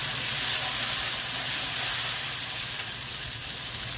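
Onions, green seasoning and tomato sizzle in a hot pan, making a steady, close, broadband hiss that holds evenly throughout with no talking.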